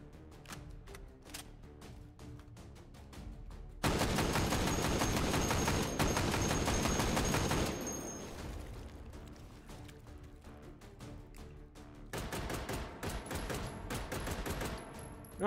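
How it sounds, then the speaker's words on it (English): Light machine gun fire in the VR shooter Hotdogs, Horseshoes and Hand Grenades comes as long sustained bursts of rapid shots, a pause with mechanical clicks for reloading, then another extended burst. "I guess nothing says destruction like an LMG."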